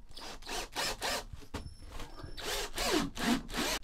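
A power drill drives screws in repeated short whirring bursts, close and fairly loud, with a brief pause midway before more bursts; this is a third attempt using different screws.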